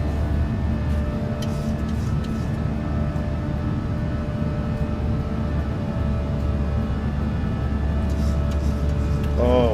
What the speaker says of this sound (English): Just even the throttle down for the climb out sounds brilliant.